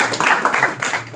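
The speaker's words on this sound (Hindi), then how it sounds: "तालियां बजाए।" A roomful of listeners at a Bhagavad Gita lecture claps together: a brief, dense burst of hand claps with slight swells, close and full, lasting about a second.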